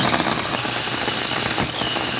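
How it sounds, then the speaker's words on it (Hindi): A kitchen mixer grinder whirs steadily as it grinds spice masala, a loud, continuous buzzing roar heard close up with no talking. "मसाला हम करेंगे ग्राइंड।"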